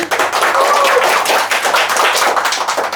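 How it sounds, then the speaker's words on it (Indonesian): Audience applause at a research talk, a dense wash of many hands clapping steadily and loudly throughout, with no voices over it. "tepuk tangan dulu dong teman-teman"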